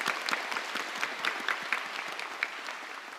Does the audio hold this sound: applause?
yes